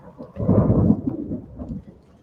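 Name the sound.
thunder from a thunderstorm at a ranch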